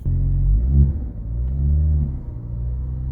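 Ford Focus ST fitted with a cheap eBay intercooler, warming up after being started: a steady, close, low engine rumble at idle with slight swells in level, and no talk.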